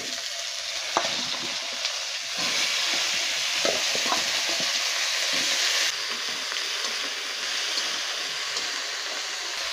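Eggplant sizzles steadily in hot oil in a pan along with cumin, bay leaves and ginger, with a constant close hiss and occasional scraping stirs and light clinks.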